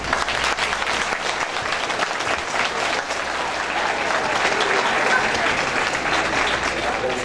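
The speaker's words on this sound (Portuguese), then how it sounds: "Eu gostaria de uma salva de palmas." Loud, sustained applause from an audience at a civic honorary-citizenship ceremony in Sorocaba, a thick continuous roar of clapping with faint voices mixed in beneath it.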